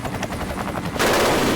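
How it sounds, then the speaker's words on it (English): Gunfire during a school shooting in a library: a few muffled, rapid rattling bursts, then a sudden loud, sustained roar of close shots and noise, with no speech. "He's shooting in the library right now."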